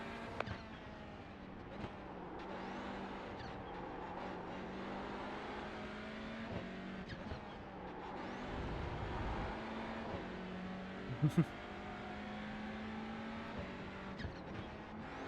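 Race cars lap at Winton Motor Raceway, a steady distant engine drone with rising and falling revs and passing cars, heard faintly from afar with no talk.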